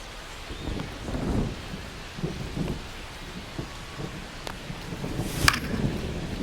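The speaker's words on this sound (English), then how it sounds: "This rain is not letting up" Steady rain falling in the MLB The Show baseball game, a constant hiss with a low rumble beneath it, under a commentator's voice.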